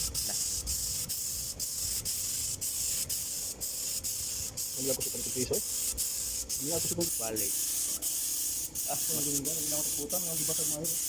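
A spray gun hisses steadily as a second coat of paint goes onto a Bajaj Maxima during collision repair, the continuous spray close and loud while people talk over it.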